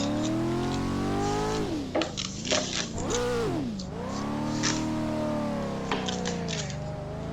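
A C5 Corvette Z06 engine pulls in fourth gear with a loud, sustained drone whose pitch dips and climbs a few times as the revs change.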